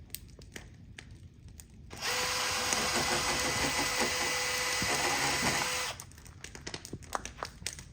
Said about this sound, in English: Now that we have our holes drilled